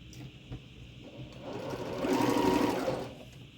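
A sewing machine stitches a quilt block with pink thread, building to a steady close hum that runs for about two seconds before stopping, with no voices.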